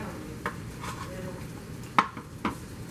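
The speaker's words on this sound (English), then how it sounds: "So after I cut the potatoes, pan's heated, throw them up" Cut potatoes go into a heated pan, giving a few scattered clinks and soft knocks of pan and utensil over a faint background sizzle, with no talking.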